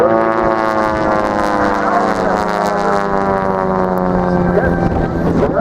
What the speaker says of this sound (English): Harmon Rocket is a home-built airplane. It's a highly modified RV4.